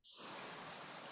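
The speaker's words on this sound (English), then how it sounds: "we hear the rain" Rain falling in a steady, even hiss that swells in within the first instant and holds constant, moderately loud with no voices.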